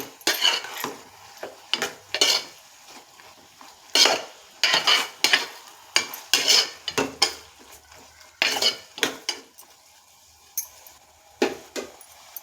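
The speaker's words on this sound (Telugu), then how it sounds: "వెల్లుల్లిపాయ పేస్ట్ వేస్తున్నాను. ఒకసారి బాగా కలుపుకుందాం." A spoon stirs garlic paste into a brinjal and raw prawn curry in a pot, giving irregular metallic clinks and scrapes against the pot with short quiet gaps between strokes, close and fairly crisp.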